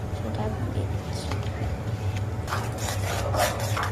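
Ginger-garlic paste is stirred and scraped in a pan while making naga chili pickle, giving a soft, continuous rasping rub with a faint background hum and no speech.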